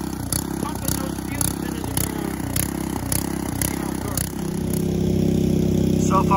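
A small engine runs steadily with a rough, pulsing clatter while its exhaust is piped into a gopher hole in a garden; the note smooths into a steadier drone near the end.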